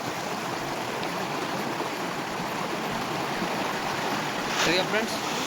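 A small waterfall pours through farm fields at night, a steady broadband rush of water running through the whole stretch, with a brief louder splash near the end.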